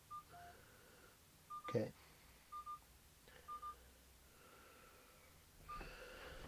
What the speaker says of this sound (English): You can actually dial from this thing.